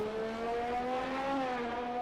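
Engine of a racing car in a video game at the Bahrain Grand Prix, a steady high-pitched drone holding near-constant revs with a slight rise, loud and continuous with no talk.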